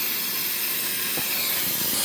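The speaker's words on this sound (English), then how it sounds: "I'm releasing the pressure because the pork butt is ready" Steam hisses steadily out of an Instant Pot's pressure release valve after a barbecued pork butt has finished cooking, a loud, close and continuous broadband rush that holds for the whole stretch with no voices.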